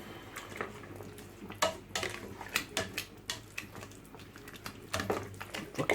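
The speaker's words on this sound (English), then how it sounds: "Right, give it a whisk." Cottage pie mixture being whisked in a bowl, a quick run of soft clinking scrapes and taps against the dish, fairly quiet and close with no talking.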